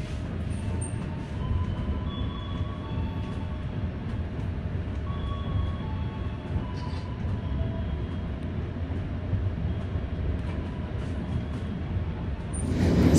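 Tegal Bahari passenger train rolling along in business class, a steady loud rumble of wheels on rails with rattling carriage noise throughout, swelling slightly near the end.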